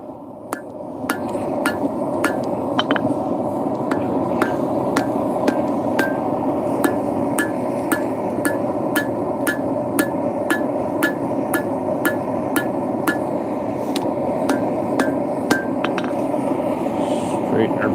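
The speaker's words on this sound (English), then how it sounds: "Straighten her back out with a couple strikes." Hammer strikes on a forged blade being straightened at an outdoor forge ring out as sharp metallic clinks, a steady series of several dozen evenly spaced blows over a constant background hum, with talking throughout.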